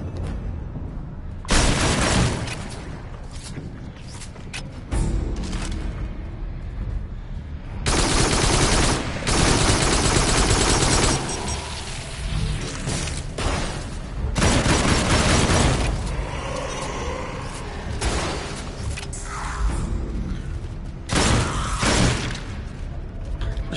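A shotgun fires repeatedly in the VR shooter Farpoint: loud, close, booming blasts in irregular bursts, some following each other quickly, with crashing impacts and battle noise between them.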